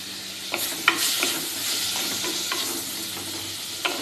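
Chopped garlic and green chillies frying in a pan for a Kerala-style prawn roast, a loud, close, steady sizzle broken by a few light spatula knocks and stirs.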